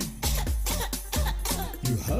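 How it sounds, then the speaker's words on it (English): Repeated coughing in a radio advertisement for a cough remedy, several harsh bursts in quick succession over a steady low background, loud and close. "You have a cough?"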